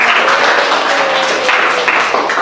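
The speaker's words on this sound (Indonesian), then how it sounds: "Tepuk tangan untuk kita semua" Students in an Arabic-language lesson clap together in a short, loud burst of group applause that fills the room, continuous and close, with no speech over it.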